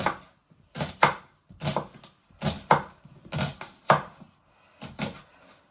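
Knife slicing through peeled onion-like vegetables on a cutting board, about six crisp, close chopping strokes in an irregular rhythm, each a sharp thud with a short crackle, no talk.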